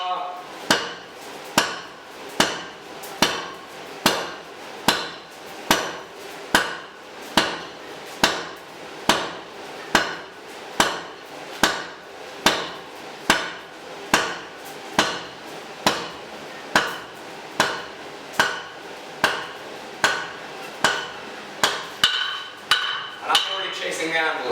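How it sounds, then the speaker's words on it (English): Hand-hammer forging on an anvil, tapering hot metal over the anvil's far edge with a round die: a steady series of about thirty evenly spaced, ringing metallic blows, close and moderately loud, continuing without pause. "This is just tapering over the far edge of the anvil, round die."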